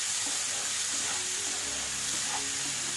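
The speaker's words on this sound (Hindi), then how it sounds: "टमाटोज अनियन को अच्छे से भुनेंगे on a high flame for 2 to 3 minutes" Ginger, tomatoes and onions frying in a pan on high flame for paneer tikka masala, a steady bright sizzle and hiss with faint stirring clatter, close and continuous.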